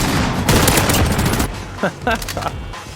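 Loud burst of MG34 machine gun fire in a video game kill cam, a dense rattling fusillade for about a second and a half, then scattered sharper single shots and booms.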